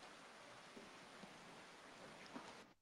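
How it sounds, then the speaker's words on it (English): Rain falls steadily as a soft, even hiss with a few faint drips on top. The whole wash is quiet and continuous and fades out at the very end. "It's raining."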